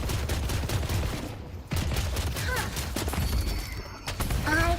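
Protoplasm orbs fired in a slime-themed video game, a busy burst of repeated shots and crashing impacts running continuously through the scene with no talk over it.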